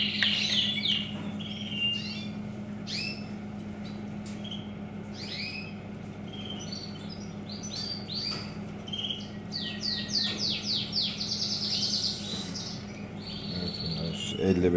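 High, thin chirps from five canary chicks come in repeated bursts over a steady low hum, fairly close and lively throughout.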